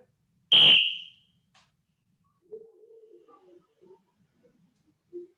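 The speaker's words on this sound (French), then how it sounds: "Coup de sifflet." A single sharp, loud whistle blast, shrill and piercing, cut off after about half a second, followed by faint, quiet murmuring.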